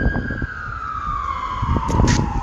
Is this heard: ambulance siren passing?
yes